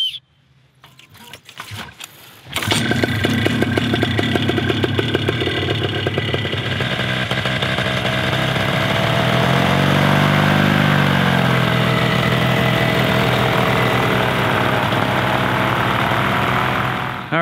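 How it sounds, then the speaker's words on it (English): Trike ultralight aircraft engine running loud and steady while taxiing, a sustained droning hum with a slight rise in pitch midway, starting after a brief quiet rustle. "first time taxiing the trike."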